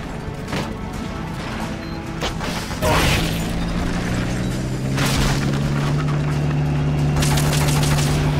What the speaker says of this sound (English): firing 2 shots out of a single cannon in 1 blast is still cheating